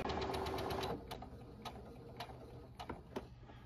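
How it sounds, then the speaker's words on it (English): A Baby Lock sewing machine stitching through scrap fabric after its shuttle area was cleaned, a fast close mechanical whir for about a second, then a few sparse clicks and ticks as it slows and stops. "put it in your machine, and make sure your machine sews correctly"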